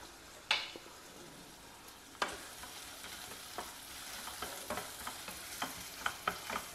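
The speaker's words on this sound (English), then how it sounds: "When the onions get a little bit translucent" Chopped onion frying in oil in a pan for a South Indian breakfast dish: a soft, continuous sizzle with a run of quick spatula taps and scrapes that grow more frequent toward the end, with no voices.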